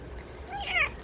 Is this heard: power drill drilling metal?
no